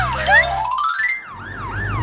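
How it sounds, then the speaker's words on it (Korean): A cartoon police car siren sounds loud and alone, sweeping upward in a long wail, then switching to a fast rising-and-falling warble. "경찰차"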